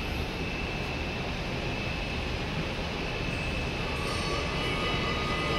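An industrial jigsaw puzzle cutting machine's motor runs with a steady, dense broadband roar and a faint constant whine, holding level at moderate loudness throughout with no talk.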